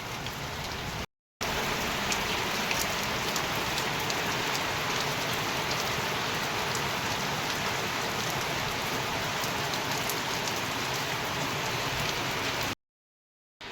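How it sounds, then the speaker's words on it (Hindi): Heavy monsoon rain pours steadily in a hill village, a dense, loud, unbroken hiss with scattered drops striking a surface, briefly cut off near the start and end, no voices. "देखो बारिश कितनी तगड़ी वाली हो रही है"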